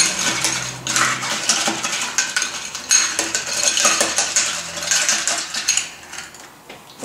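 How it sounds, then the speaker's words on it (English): Ice clinks and rattles against glass as a kiwi cooler cocktail is slowly stirred over cracked ice, a steady close-up jingle that fades toward the end. "Slowly stir."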